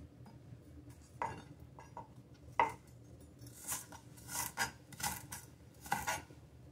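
A knife cuts an onion on a board for a spicy salmon head and vegetable stew, with irregular soft chops and taps and a few quick clustered knife strokes, quiet and close.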